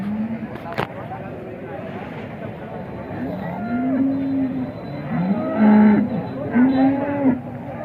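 Several cows moo in low, drawn-out calls at a busy cattle market in Alephata, Maharashtra, the calls rising and falling over steady crowd murmur while people talk nearby.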